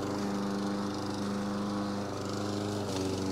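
A STIHL RM 655 VS gas walk-behind lawn mower runs close by, a loud steady droning engine with a slight dip and recovery in pitch, no talking.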